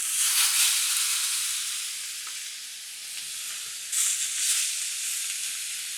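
Steak and prawn skewers hitting a hot plate, a loud, close, continuous hissing sizzle that eases slightly and surges again as more skewers go down, with no voices.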